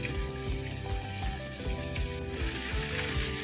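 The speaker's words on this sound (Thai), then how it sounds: "ผัดจนกุ้งสุกครับผม" Fresh shrimp stir-frying in a pan with ground pork, a steady sizzle under clinking, scraping stirs and a background of music, no voices.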